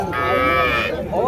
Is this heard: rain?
no